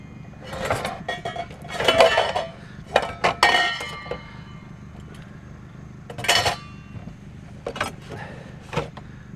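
An aluminum pan and cups clink and knock together as they are picked up and handled, in several bright bursts of contact separated by quieter pauses, heard close up.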